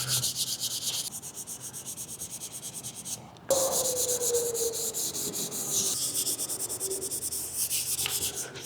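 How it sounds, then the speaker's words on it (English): Car paint being sanded lightly by hand, a soft, continuous rhythmic rubbing and scratching close to the microphone, with one brief break partway through. "you're just better off just to sand over the whole thing lightly"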